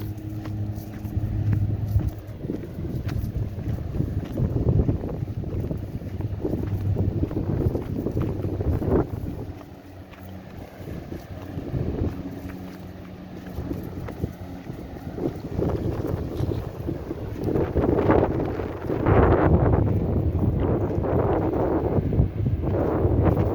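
Rough surf and gusting wind on the East Coast of Barbados near St. Andrew, a steady broadband roar with wind buffeting the microphone throughout, swelling louder toward the end.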